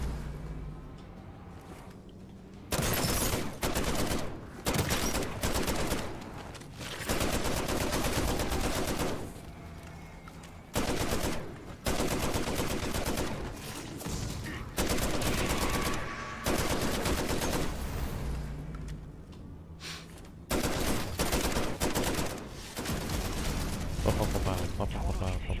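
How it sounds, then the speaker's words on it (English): Rapid automatic fire from the player's gun in Call of Duty MW3 Zombies comes in repeated loud bursts separated by short gaps, with mechanical clicks and background game sounds. "Making music with my gun."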